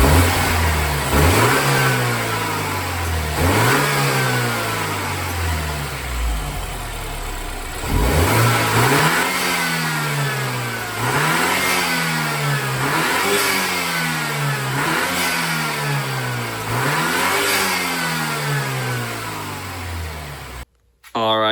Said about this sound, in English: I'm about to rev it and you'll hear it.